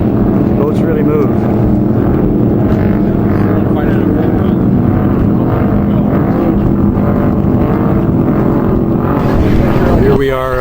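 Boat engines rumble loudly and steadily at a 2010 boat show in Buffalo, a continuous heavy motor drone filling the whole stretch with a brief shift near the end.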